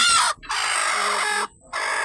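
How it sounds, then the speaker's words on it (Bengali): Hens sitting on eggs give two loud, close calls, separated by a short pause. "আজকের ভিডিওতে দেখাবো আমার মুরগির কোর্সে বসাইছি"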